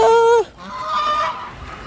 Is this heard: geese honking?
yes